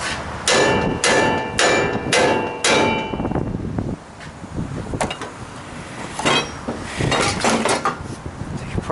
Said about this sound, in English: Take your hammer, smack it right there.